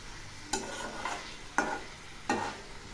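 A spice paste for cauliflower korma is sautéed in oil. A steady sizzle runs under three firm spoon scrapes against the pan, close and clear, with no voices.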